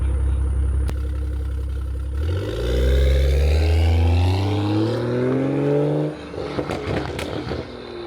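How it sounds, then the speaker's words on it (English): A BMW M340i fitted with an AliExpress valvetronic exhaust rolls past, its engine note climbing steadily in pitch as it accelerates, loud and close, then fading into a rougher, burbling drone as it moves away. "I'm gonna give y'all some roll around shots of the car just so you can hear how it sounds from an outside view"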